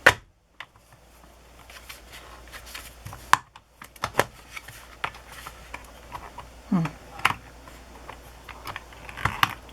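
A hole punch working through garden binder journal pages gives scattered sharp clicks and clacks, with rustling paper handling in between, close and fairly quiet, no talk.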